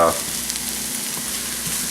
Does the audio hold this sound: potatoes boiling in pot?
yes